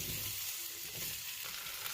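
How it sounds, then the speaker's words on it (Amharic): Food sizzles and spits steadily in hot oil, a constant crackling hiss close by with no voices. "ዘይቱ በደንብ ጋል ሲል ድንቹን እንጨምራለን።"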